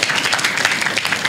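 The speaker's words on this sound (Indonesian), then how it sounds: "kasih tepuk tangan sama" A church congregation at a Sunday service breaks into steady, dense applause, loud and close, with many hands clapping continuously and no voices.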